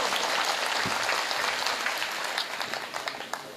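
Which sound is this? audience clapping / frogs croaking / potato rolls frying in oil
audience clapping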